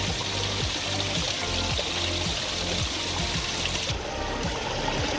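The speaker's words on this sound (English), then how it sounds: "I'm going to go basically just pan out the very bottom of this one" Gravel and water swirl and slosh continuously in a gold pan while prospecting outdoors in winter near Revelstoke, British Columbia; a loud, even watery rush runs throughout with no talking.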